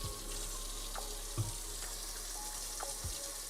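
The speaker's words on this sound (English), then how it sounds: "do a quick rinse on the hands" Tap water runs steadily into a sink as hands are rinsed during cinnamon roll baking, a soft continuous splashing hiss with a few faint knocks, fairly quiet throughout.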